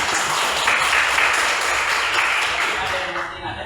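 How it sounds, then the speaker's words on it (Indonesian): Students in a classroom clap their hands together at a teacher's prompt, a dense burst of clapping that fills the room for a few seconds before tapering off near the end. "Tepuk tangan dulu."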